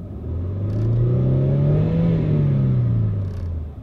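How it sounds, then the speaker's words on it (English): The engine of a used luxury SUV is revved up, rising to a loud, rough, uneven drone and then falling back. The engine is running rough and shudders, and it is heard close with no talk over it. "But now as you can hear when I rev it up under the engine"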